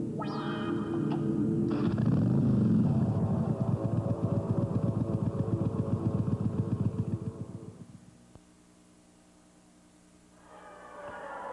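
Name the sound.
Yamaha Virago V-twin motorcycle engine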